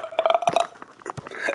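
A short burp-like grunt from a 3on3 Freestyle basketball game, fairly loud and followed by a few quick noisy bursts of game sound within a second and a half.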